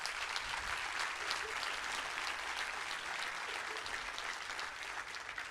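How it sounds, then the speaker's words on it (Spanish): A church congregation applauds steadily during a worship service, dense sustained clapping filling the room at an even level throughout. "Denle un fuerte aplauso a Dios"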